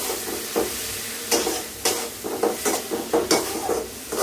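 Ingredients sizzle in a pan with hilsa fish head and home-grown taro greens, while a utensil scrapes and stirs them in irregular bursts over a continuous frying hiss. Nobody speaks.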